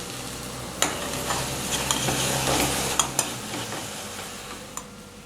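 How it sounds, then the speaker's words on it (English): Paneer butter masala with softened tomatoes sizzles in a pan as a utensil stirs it frequently, producing a continuous frying hiss punctuated by several sharp clicks and scrapes, without speech. "You want to keep stirring frequently just to make sure that nothing's burning"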